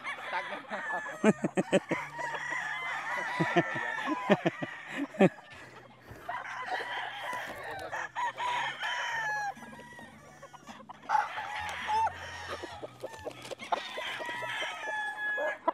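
Several roosters, young stags in a farm conditioning area, crow repeatedly, overlapping one another and ringing out close and loud, with clucking and scattered rustling between the calls and no talking.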